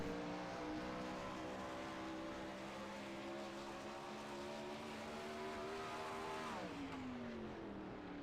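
A 410 winged sprint car roars around the dirt track at Charlotte during qualifying, a loud sustained engine drone that holds steady and then drops in pitch as it lifts off, with no talking.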